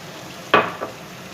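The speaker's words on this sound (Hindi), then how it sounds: "मसाला मेरा भुन चुका है और ऑयल ऊपर आ चुका है" Masala for a chicken and chana curry fries in oil, heard as a brief sizzling burst with a second, softer hiss shortly after, close and otherwise quiet.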